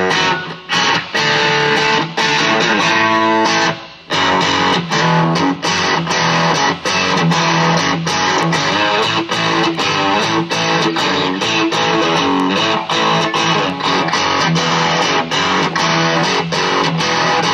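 Electric guitar driven through a Boss DS-1 distortion pedal, vintage and modded, into a Vox AC10 amp, playing loud, dense distorted chords and riffs continuously, with a brief pause near four seconds.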